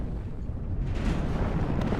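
A BMP-2 infantry vehicle blown apart in the WARNO strategy game, a dull rumbling explosion with a low rolling boom that swells and lingers for about two seconds under a noisy battlefield.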